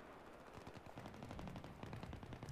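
Rapid automatic gunfire in Battlefield 3 rattles in a dense, continuous burst of quick shots, fairly close and steady, with no talking.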